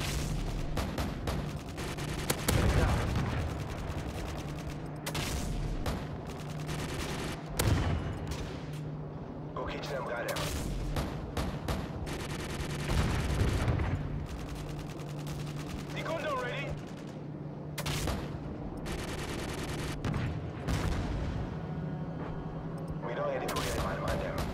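AC-130 gunship fire in Modern Warfare 3 multiplayer, dense overlapping bursts of heavy cannon and gunfire in repeated volleys with booming impacts, voices speaking over the barrage.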